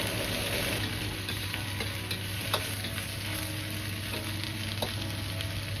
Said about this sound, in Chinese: 接着倒入控干水分的奶白菜翻炒